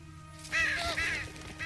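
Birds call in The Walking Dead video game, a single harsh, honking cry lasting about a second over a low steady background hum, with no talk.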